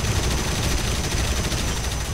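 Rapid, dense bursts of gunfire in War Thunder with a steady electronic hum, game audio firing continuously.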